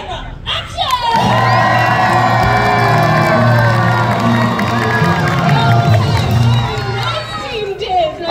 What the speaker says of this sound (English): I need you all to put your hands together and cheer for Diggs as loud as you can